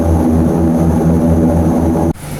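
A propeller airplane drones steadily and loudly from inside the cabin in flight, a constant low engine hum that shifts abruptly near the end.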